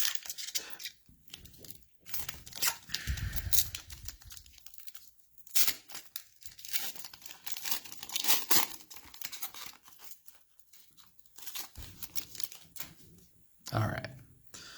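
NBA trading card pack wrappers crinkling and tearing up close, in several bursts of sharp plastic rustling separated by pauses, with a person talking quietly in between.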